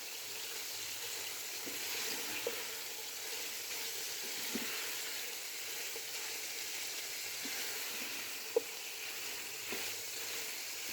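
Quails fry in a pan for spicy sobat with a steady, quiet sizzle, broken by a few faint clinks of stirring.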